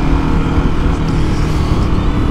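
A KTM 1290 Super Adventure twin-cylinder motorcycle with an Akrapovic silencer runs with a steady, deep rumble. The engine sound is close and continuous, with no talking.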